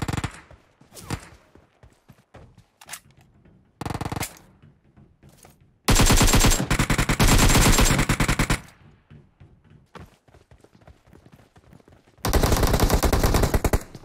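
Bursts of automatic gunfire in PUBG Mobile, with short separate shots early on and then two long, loud, sustained volleys. The firing is close and dominates the mix.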